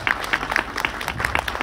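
An audience claps for the performers at a Philippine Independence Day celebration in Cardiff, Wales, giving a short, steady patter of applause with bright, scattered hand strikes.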